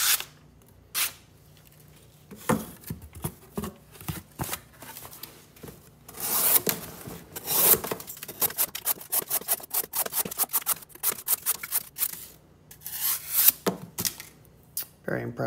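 A sharp thin-ground knife slices through cardboard in a long run of quick, close rasping cuts, scattered at first and then rapid and rhythmic, with brief quiet gaps.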